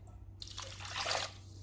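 A brief splash and swish of water as flattened rice flakes are rinsed and stirred by hand, over a low steady hum.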